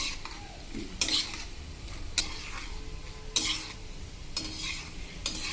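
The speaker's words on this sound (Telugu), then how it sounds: "జీడిపప్పు అంతా గోల్డ్గా వేగిందండి." Cashews sizzle in hot oil until golden as a spoon stirs and scrapes the pan in periodic strokes, with a steady frying hiss underneath throughout.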